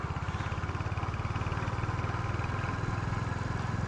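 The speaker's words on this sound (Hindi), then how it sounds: "ये देखो अभी थोड़ा सा आवाज़ जो है वो आ रहा है बाइक में, स्लो होने पे घसर घसर।" A Royal Enfield Hunter 350 motorcycle slows down with its single-cylinder engine thumping in a quick, even pulse, a faint rough rattle running along underneath the beat at close range.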